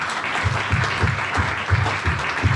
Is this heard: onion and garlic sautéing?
no